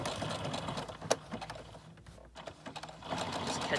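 A sewing machine stitches paper scraps into a junk-journal snippet roll, whirring quietly in short runs with a brief pause midway, close and fairly soft.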